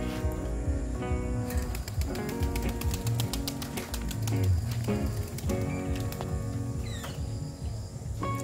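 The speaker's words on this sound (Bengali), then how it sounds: "অন্য কবুতরগুলো খাবার জন্য চলে আসবে।" Pigeons gathering to feed, with soft cooing and rapid pecking taps of beaks on the feeding surface, close and continuous, along with light fluttering.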